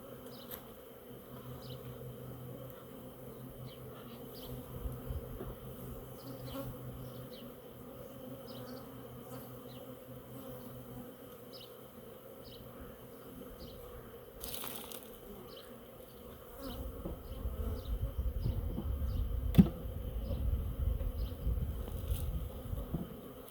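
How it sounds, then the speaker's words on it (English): Honeybees buzz steadily around a swarm hive, a dense close hum full of individual bees darting past, with deeper rumbling handling noise near the hive in the last few seconds. "Lots of bees."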